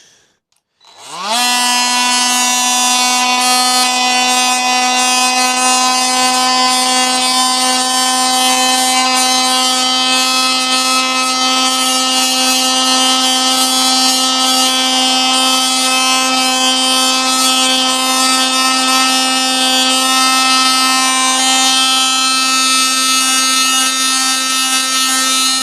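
A power sander grinds on wood during a camper van build, a loud, steady close-up whine with strong even harmonics that starts abruptly and holds constant for over twenty seconds.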